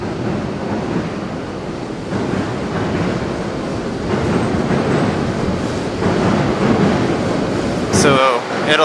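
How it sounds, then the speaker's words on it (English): A train rumbles past steadily near Nakameguro in Tokyo, a loud, continuous roar with rolling swells that builds toward the end, with faint voices beneath. "It'll get a little bit noisy with the train"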